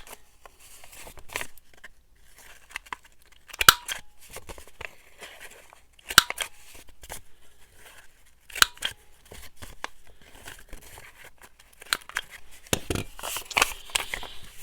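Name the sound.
paper punches cutting thin dyed paper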